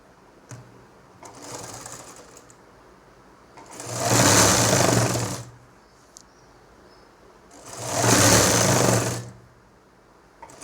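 Sewing machine stitching a nightie at home, running in two sustained bursts of about 1.5 seconds each with a shorter, quieter run before them, motor whirring steadily and close by.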